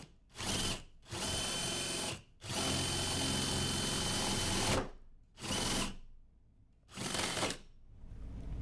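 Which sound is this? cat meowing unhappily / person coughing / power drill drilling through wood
power drill drilling through wood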